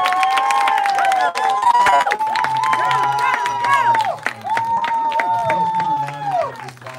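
Audience applause and cheering for a coach after a university question-and-answer session: a loud crowd of clapping with shouts, whistles and calls rising over it.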